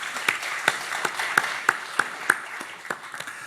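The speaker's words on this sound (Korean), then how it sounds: "우리 박수 한번 더 부탁드리겠습니다" A church congregation claps for the choir during a Sunday service: a string of sharp, separate claps at an uneven, fairly quick pace, with the clapping thinning toward the end.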